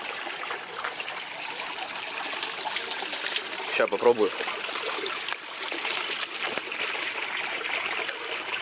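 A natural spring trickles steadily nearby, with a brief splashy burst partway through as someone speaks briefly over the running water.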